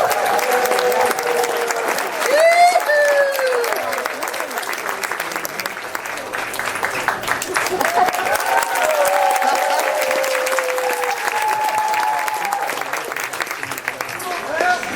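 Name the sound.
audience applause for ukulele performers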